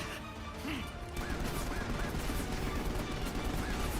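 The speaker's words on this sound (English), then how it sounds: "You grab a hold of a machine gun so you can hit a flying target" Sustained rapid machine-gun fire in Final Fantasy XV, aimed at a flying target. The bursts are dense and continuous at a steady, fairly loud level.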